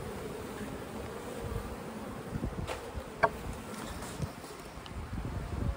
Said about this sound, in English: I'm going to take this as my shake of bees.